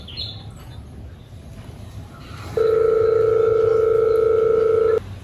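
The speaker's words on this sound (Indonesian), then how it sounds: "Telepon Nadia." A loud, steady telephone dial tone starts after a quiet stretch and holds for a couple of seconds before cutting off.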